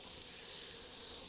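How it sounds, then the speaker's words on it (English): Bees in Metal Gear Solid Delta give off a steady, dense insect buzz, a quiet hissing drone that stays even and unbroken throughout. "Bees!"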